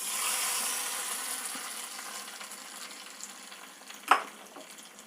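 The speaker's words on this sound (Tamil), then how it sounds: "அப்படியே இந்த கீரையில் தாளிப்பு சேர்த்துடலாம்." Mustard seeds and curry leaves fried in hot oil sizzle with a bright hiss as the tempering goes into cooked spinach greens, fading gradually, with one sharp splashing crackle near the end.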